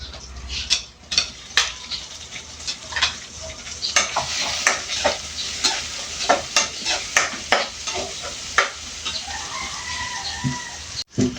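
Shelled shrimp go into a hot pan already holding onion and garlic, with steady frying and repeated sharp scrapes and clacks of a utensil stirring, close and fairly loud, and a rooster crowing in the background.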